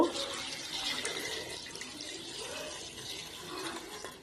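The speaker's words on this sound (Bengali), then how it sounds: "এই যে লঙ্কা কুচি, আর এটা আদা কুচি দিয়ে একটু জল দেব।" Water pours into a pan of chopped chilli and ginger, a soft, close, continuous splashing stream that fades gently over a few seconds.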